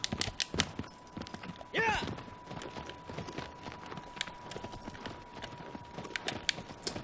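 A horse galloping in Shadow of the Colossus: steady rhythmic clip-clop of hooves over game ambience, with a brief vocal cry near the start.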